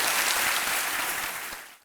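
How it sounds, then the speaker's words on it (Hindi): Studio audience on a quiz show claps in a brief, dense burst of applause that holds steady and then fades out quickly. "ओके, चलिए ताली बज जाती है इसके ऊपर।"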